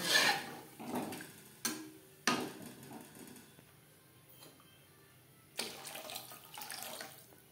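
Water poured into a pan of fish curry masala for a Bata fish curry, heard as a few short splashing pours with quiet gaps between, close and fairly soft.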